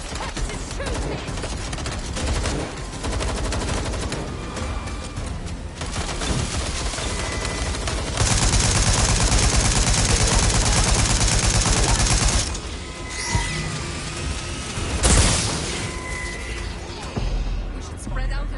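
A suspect's gunfire rattles in rapid bursts, with loud sustained volleys and sharp cracks mixed with voices speaking throughout.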